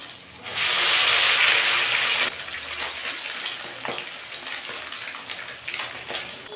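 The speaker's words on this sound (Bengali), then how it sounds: "এক পিঠ ভাজা হয়ে গেছে, উল্টে দেব।" Rohu fish, just flipped, sizzles in hot mustard oil in a kadai: a loud hissing burst for about two seconds, then a steadier, quieter crackle that continues to the end.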